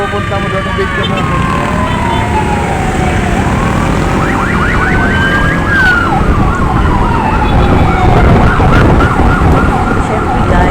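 Fire truck sirens wail and sweep up and down as the trucks arrive at a burning building in Zapote, Las Piñas, loud and close over street noise and engines, with people talking nearby.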